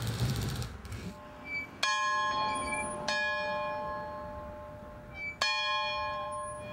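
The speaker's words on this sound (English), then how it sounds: "every child gets to ring this bell as they go out" A hand bell pulled hard by a child rings out in three sharp, bright strikes, each leaving a long shimmering ring that slowly fades, close and fairly loud in a quiet room.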